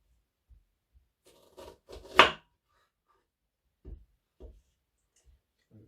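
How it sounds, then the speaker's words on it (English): A knife chopping onion into large cube pieces for a Mandi lamb dish: a few sparse, dull thuds on a board, then a sharper cluster of cuts, followed by scattered quieter taps, close and unaccompanied by talk. "don't want to cut it into small pieces, so large pieces. So we'll have 4 slices, cubes of onions"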